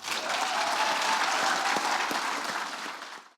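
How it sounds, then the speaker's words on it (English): Audience applause fills a hall at an environment awards ceremony, a steady dense wash of clapping that holds strong, then thins and fades near the end, with no talking over it. "Round of applause."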